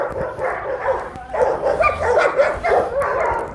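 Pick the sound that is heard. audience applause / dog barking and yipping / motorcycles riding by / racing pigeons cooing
dog barking and yipping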